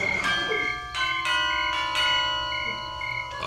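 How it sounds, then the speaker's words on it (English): A bell rings in repeated sustained strokes, loud and close, used as a sound effect on a 1969 comedy album, with no talking over it. "Make a note, that bell has got to go."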